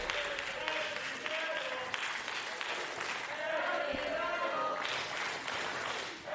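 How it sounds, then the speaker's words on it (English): A wrestling show crowd applauds and claps in a sustained, moderately distant wash, with a commentator talking over it throughout. "the support being drummed up by the crowd"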